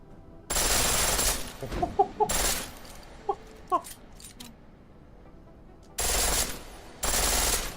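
A pistol fired in full-auto mode in Deus Ex, four loud, dense bursts of rapid fire separated by quieter stretches holding brief clucking, chirping sounds.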